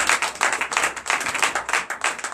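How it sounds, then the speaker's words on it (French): A church congregation at a Sunday worship service in Benin breaks into sustained applause, many hands clapping in a dense, steady wash that stays fairly loud and close throughout. "son bureau va être confié au nouveau président sous vos applaudissements"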